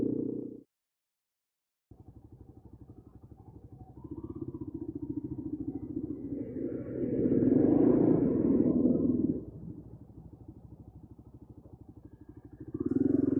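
Motorcycle engine on a desert ride in Mauritania with a tailwind and light throttle, a steady low rumble that drops out briefly near the start, then swells louder mid-clip before easing back and rising again at the end.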